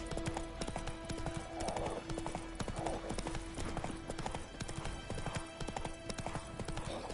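Steady, close clip-clop of Roach's hooves in The Witcher 3 rolls on continuously at a brisk trot, with a sustained drone of game music and ambience behind it.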